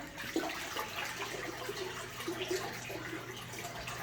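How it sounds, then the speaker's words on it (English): A bidet toilet in a hotel room at the Commodore Hotel Gyeongju Chosun, South Korea, flushes with a close, rushing gurgle of water that swirls steadily and keeps draining throughout. "Classic square flush."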